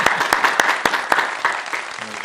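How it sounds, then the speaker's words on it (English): An audience in a talk-show studio claps and cheers for a performer, a short burst of sharp, fairly close handclaps that thins out over about two seconds. "So make enough noise for Sideshow real quick"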